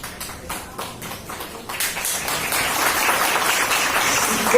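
A church congregation breaks into applause, scattered claps at first that swell into sustained, dense clapping filling the room.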